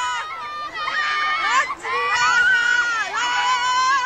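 Angry crowd outside a gurdwara in Nanded, Maharashtra, after an attack on police: loud, chaotic shouting and screaming voices overlapping continuously, with people yelling close by amid general commotion.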